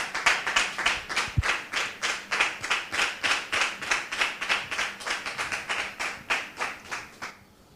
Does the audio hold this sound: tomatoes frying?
no